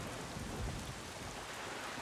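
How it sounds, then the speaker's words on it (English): Steady rain falls over a cursed island under dark clouds in The Wind Waker, a constant hiss with low rumbling beneath, fairly quiet and continuous with no voices. "this place suffers under dark clouds and rain"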